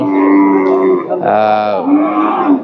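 A cow moos loudly nearby at a cattle market, a long low call that rises and then falls again, with no talking.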